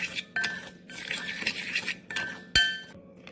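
A spoon stirs sugar into lukewarm water in a glass, giving repeated close, bright clinks and tinkles against the sides in uneven bursts, with one sharper clink near the end and no voices.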